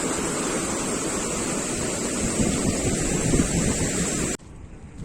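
A glacier-fed mountain river near Koksar, flowing down toward the Chandra River, roars as a steady, dense rush of water with wind buffeting the microphone, then cuts abruptly to a quieter hiss near the end.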